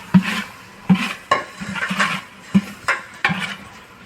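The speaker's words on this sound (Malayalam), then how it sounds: "ഇനി നല്ലൊന്ന് ഇളക്കി കൊടുക്കുക" A spoon scrapes and clinks against a cooking pot as mint is stirred into mutton biryani masala, giving about seven or eight evenly spaced, fairly close metallic strokes over a soft background.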